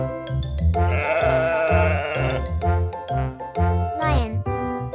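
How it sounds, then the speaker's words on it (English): Sheep bleating rises above a bouncy children's song with jingling chimes, a wavering bleat lasting about a second in the middle of the music about animals and their homes. "Sheep lives in a pen."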